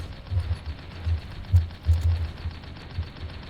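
Vulcan turret firing in the tank battle game Tanki Online, a steady low rumbling burst of rapid mechanical fire with rising and falling surges, moderately loud and continuous with no talk.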